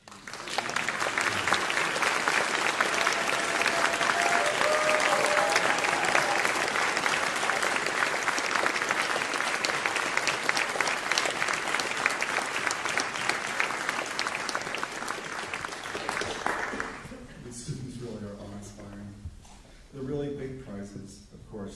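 An audience at a music department graduation ceremony applauds loudly and steadily for a long stretch before the clapping fades out and a voice begins speaking.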